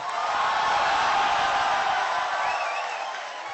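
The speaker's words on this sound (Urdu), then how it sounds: "آپ سب کی بھرپور تالیوں میں اور تالیوں میں ہی تشریف لاتے ہیں جناب تہذیب حافظ" An audience at a poetry gathering applauds and cheers to welcome poet Tehzeeb Hafi, a broad, continuous wash of clapping and crowd noise that swells and then eases slightly, without speech.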